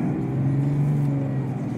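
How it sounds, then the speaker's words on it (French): An automatic car pulling away from a roundabout, a steady close engine drone with a low rising hum, heard from inside the cabin with no talk. "Allez, j'accélère."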